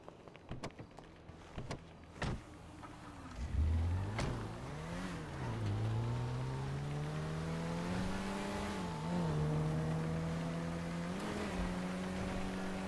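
A car in GTA starts up after a few door clunks and clicks, then the engine revs and settles into a steady driving drone, rising and falling in pitch as it accelerates and shifts, with no talking.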